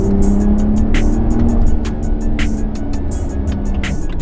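A Ford Raptor or Ram RHO pickup truck engine drops from fourth to third gear at around 46 mph, a loud close drone whose pitch shifts partway through, with no talking.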